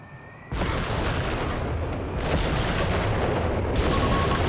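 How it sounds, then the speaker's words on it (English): A British Indian Artillery Battle Group's off-map airburst barrage in Company of Heroes 3 lands as a continuous roar of shell bursts, starting abruptly and growing louder, loud and sustained with no talk. "Testing out the revised off-map Airburst Barrage for the British Forces Indian Artillery Battle Group"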